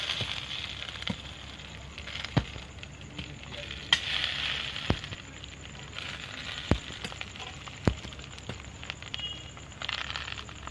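Bhola fish laid on banana leaves in an oiled kadai sizzle softly and steadily, with scattered small pops and a few light knocks from handling the pan.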